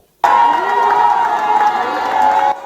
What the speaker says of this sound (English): crowds were seen in a neighborhood of the capital, Libreville, cheering as soldiers passed by